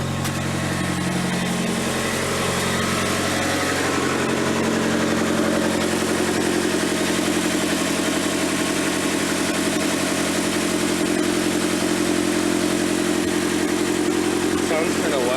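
A 1992 Mitsubishi Galant VR-4 engine idles loud and steady with a raspy exhaust leak from a loose downpipe and broken stud, a continuous rumble running the whole time.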